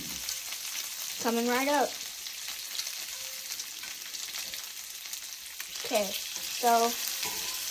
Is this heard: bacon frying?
yes